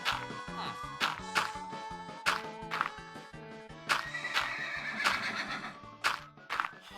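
Repeated horse neighs and whinnies from Minecraft on the Wii U, mixed with hoof clip-clops and busy game sounds, loud and close throughout.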